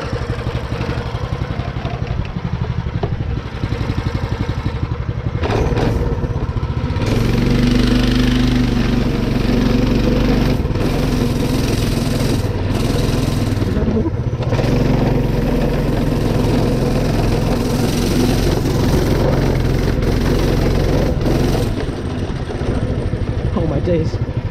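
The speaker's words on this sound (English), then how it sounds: "We're running the 63-tooth sprocket on this go-kart. Let's go take it for a rip." A budget DIY go-kart with a live axle and 63-tooth rear sprocket is driven hard, its small engine revving loudly and unevenly with a rattly, buzzing clatter, close by throughout.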